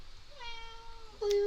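A house cat gives a single short meow that rises and then holds, heard close by over quiet room noise, ending in a sudden louder burst of sound.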